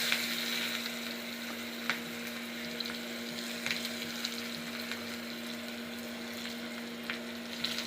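Small shallots with asafoetida fry in hot oil, a soft, steady sizzle with a few faint clicks and a low hum beneath, fairly quiet and unaccompanied by talk.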